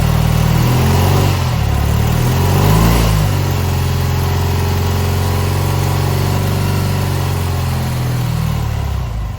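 A BMW R100RS motorcycle engine idling nearby, a loud, steady low rumble with a brief rise in revs early on before settling into an even, smooth idle.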